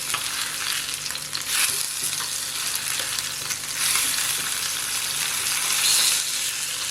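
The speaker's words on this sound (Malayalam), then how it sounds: "അതിന് ശേഷം ഒരു മീഡിയം ഫ്ലെയിമിൽ വെച്ച് വറുത്തെടുക്കണം" Karimeen pearl-spot fish frying in hot oil over a medium flame, with a steady, loud sizzle and crackle that swells briefly in spots and carries no talk.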